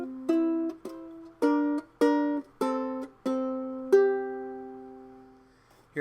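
Solo ukulele plucking a melody, a handful of clear ringing notes and double stops at a slow, steady pace, the final note left to decay; close and quiet with no talk.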